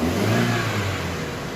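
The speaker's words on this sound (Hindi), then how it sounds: "तो देखिए इसका RPM भी ऊपर जा रहा है।" A car driven with a broken accelerator cable revs hard, its engine note rising loudly over a short burst, then easing slightly, with no talk.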